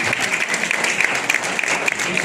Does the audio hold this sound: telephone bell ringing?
no